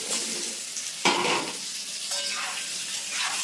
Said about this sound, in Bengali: দিয়ে খুব সুন্দর করে নেড়ে নেব